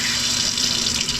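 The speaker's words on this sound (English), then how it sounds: "And there's your taps." Water running from the tap into a small RV kitchen sink, a steady close hiss and splash for just over a second, with no talking.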